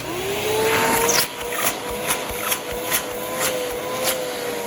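A Hoover Commercial Task Vac bagless vacuum cleaner running with its hose, a steady whine and airflow roar that drops after a second into uneven suction sputters and thumps.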